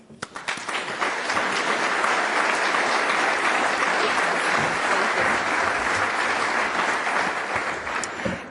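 Sustained audience applause greeting the incoming female host at an opening summit session, a dense steady wash of clapping from a large crowd lasting throughout, loud and continuous without speech.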